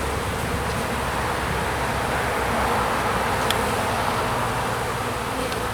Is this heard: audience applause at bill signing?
no